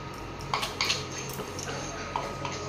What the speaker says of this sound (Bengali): মিট মশলা দিয়ে ভালো করে নাড়িয়ে নেব।